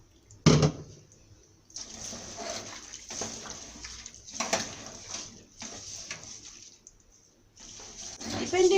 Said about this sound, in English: At this time, you need to add cold water.